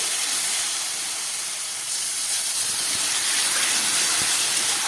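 Tender okra frying in a pan with mustard seeds and green chilli, a steady loud sizzle and hiss that holds throughout, with a couple of faint clinks and no talking.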